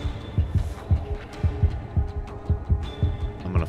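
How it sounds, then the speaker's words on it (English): A heavy heartbeat pulses in the Indigo Prophecy video game, steady low thumps repeating roughly twice per second over a faint background hum, close and prominent without any talking. "What's with this heartbeat?"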